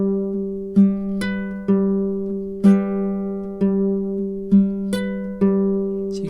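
An acoustic guitar plays a fingerpicked song with strings plucked together: sustained notes ring clearly, and a fresh crisp pluck lands roughly every second. It is close and alone.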